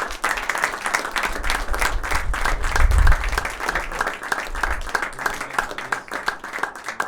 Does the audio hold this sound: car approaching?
no